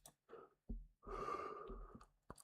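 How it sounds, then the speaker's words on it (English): A quiet, drawn-out yawn with breathy intakes and soft exhalations, close to the microphone and fairly faint, broken by short pauses. "Got a little yawn going there."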